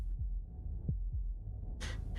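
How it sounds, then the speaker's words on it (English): Low, muffled heartbeat thumps in a video game: a few soft, deep beats spaced unevenly, ending with a brief airy burst of noise. "That was the sound of a heartbeat,"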